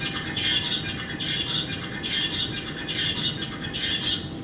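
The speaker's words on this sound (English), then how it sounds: "That male bird sees a female and he orients to her, follows her around, and he sings faster and in a much more stereotyped way than when he sings alone." A male songbird sings rapid, stereotyped courtship song toward a female, repeated high chirping phrases in a steady rhythm over constant background noise, close and moderately loud.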